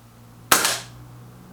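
A single sharp shot from a BSA R10 Gen2 regulated air rifle cracks close by, a sudden loud snap with a brief fading tail, otherwise quiet.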